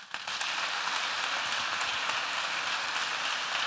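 An evening audience applauds a speaker at an inspirational talk in Oradea, a steady dense wash of clapping from a large crowd, loud and continuous throughout with no voices on top.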